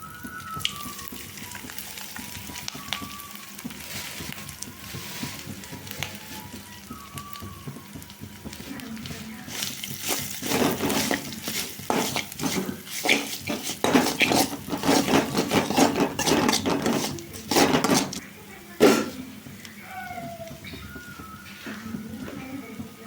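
Grated coconut sautéed in oil in a pan and stirred, with soft sizzling and a dense run of spoon scrapes and clatter against the pan in the middle stretch, close up, with quieter kitchen sounds around it.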